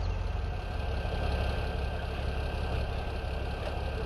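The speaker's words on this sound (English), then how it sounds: "We'll move our tractor." Tractor engine idling in Farming Simulator 17, a steady low mechanical drone with constant loudness throughout, no voices.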